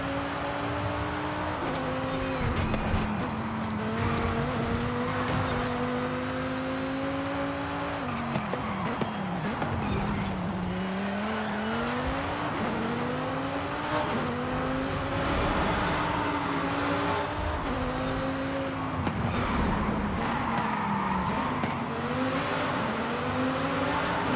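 A 2009 Corvette ZR1 lapping a track, its V8 rising and falling in pitch through repeated upshifts and braking, with tires scrubbing through corners, loud and continuous throughout.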